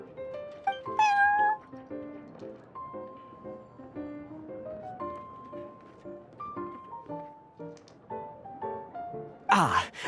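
Prince, a cat character in the Genius Invokation card game, gives a couple of short, bright meows, one early and one near the end, over soft plucked background music.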